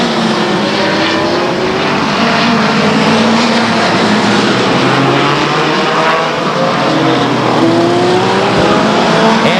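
Stock cars on the Stockton 99 Speedway oval in 1999 roar past completing a lap, a loud sustained engine drone with pitch sweeps as the pack passes nearby, no voices.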